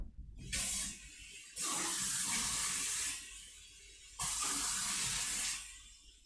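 Water gushes from a tap in two strong bursts with a quieter trickle between them, a close, loud hissing flow with no talk over it.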